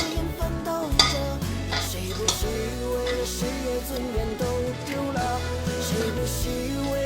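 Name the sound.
tossing and mixing seasoned food in a bowl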